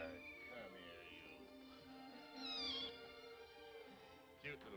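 Several cats meowing in overlapping, rising cries, close and fairly faint, with people talking around them.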